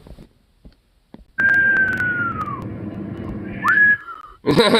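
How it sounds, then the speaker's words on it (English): A person whistles two clear notes, a long falling tone followed by a shorter rising one, close and loud against near silence. "Damn, someone's whistling."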